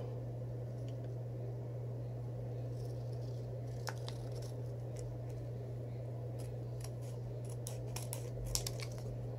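Scissors snip open a McDonald's Happy Meal Pokemon card pack, a series of faint, crisp cutting clicks and crinkles over a steady low electrical hum, with no talking.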